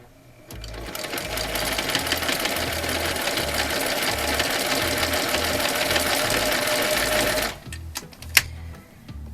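A sewing machine hums loudly and steadily for several seconds, stitching a scrap quilt flying geese block along a drawn line, then stops, followed by a few light clicks and fabric handling.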